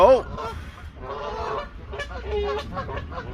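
Geese honk repeatedly nearby in Worsley, a cluster of nasal calls overlapping with a person's voice and some background bustle.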